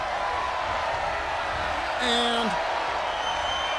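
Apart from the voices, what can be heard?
crowd cheering in the video game WWE 2K23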